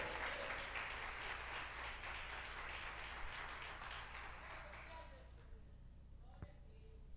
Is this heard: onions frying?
no